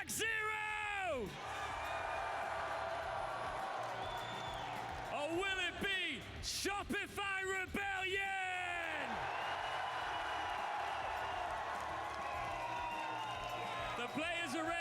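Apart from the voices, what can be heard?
esports crowd cheering and yelling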